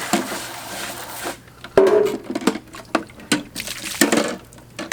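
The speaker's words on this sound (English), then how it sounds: "Let's rinse off my hand" Water runs and splashes as a hand is rinsed while cleaning a Magniflow 360 canister, a steady wash for the first second then broken, irregular splashes and knocks, fairly close.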